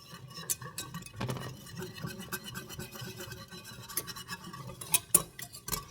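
Utensil scraping the bottom of a pan while browning roast beef, a steady scratchy rasp with clicking ticks and a few sharper knocks of metal, fairly close and quiet, with no voices.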